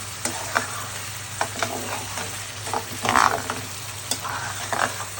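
Curry masala sautéed in a pan, with repeated scraping stirs over a low sizzle, close and moderately loud, with no talking.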